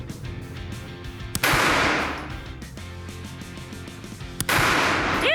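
Two loud, sharp gunshots fired at targets crack out a few seconds apart, each with a bright burst and a booming, fading tail. Quieter ambience fills the gap between them.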